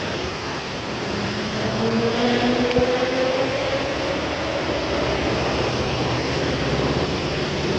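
An Airport Rail Link electric train running overhead toward Suvarnabhumi from Phaya Thai gives a loud, steady rolling rumble with a rising tonal whine, near a railway level crossing at Soi Phetchaburi 47 in Bangkok.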